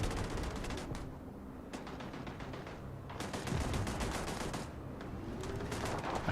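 Automated turrets in Starfield fire in rapid repeated bursts, dense crackling gunfire with short pauses between volleys, fairly distant and low in level.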